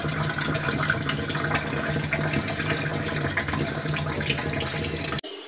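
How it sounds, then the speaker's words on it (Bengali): Tap water runs steadily and close while milk mugs are washed in a sink. The even rushing flow continues until it cuts off abruptly near the end. "মগগুলিকে এখন ধুয়ে রেখে দেবো"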